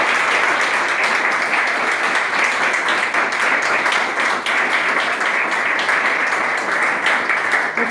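Seminar audience gives a speaker after her research presentation a sustained round of applause, even, dense and fairly loud from start to finish, with no break or voices standing out.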